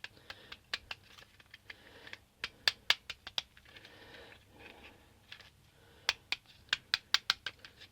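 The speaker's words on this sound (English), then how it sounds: "Sharp knife. Carefully." A sharp knife trims the thick chunky inner edge off a PVC pipe, giving scattered crisp ticks and scraping snaps at close range, with clusters of quick clicks near the start, middle and end and quiet gaps between.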